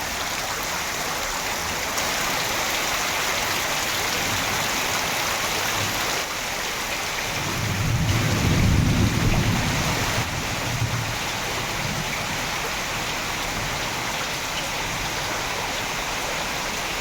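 Heavy rain pours down in Malampuzha as a steady, loud, broadband hiss, with a deep low rumble of thunder swelling briefly near the middle before the downpour carries on alone.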